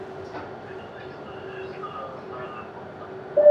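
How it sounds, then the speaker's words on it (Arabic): Inside a nearly empty Barcelona metro carriage, a steady train rumble and hum runs throughout, with a faint tonal whine near the end and no talking. "دابا في المترو كما كتشوفوا هو خاوي"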